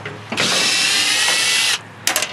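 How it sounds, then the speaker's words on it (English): Power tool driving screws out of a microwave oven's metal casing, one loud sustained whine lasting over a second, then brief clanks of metal handling. "And now I'm gonna take off all the screws that I can to get inside of it."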